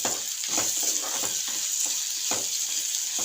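Moong dal frying in a pan with cumin powder and ginger-garlic paste for a spinach stir-fry, producing a loud, continuous sizzle broken by rhythmic stirring strokes.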